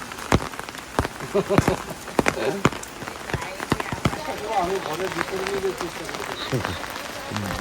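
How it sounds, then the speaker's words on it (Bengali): Rain falls steadily on surfaces with scattered sharp drops and patters, while people talk nearby. "আজকে তো মোটামুটি সকাল থেকে বৃষ্টি হচ্ছে"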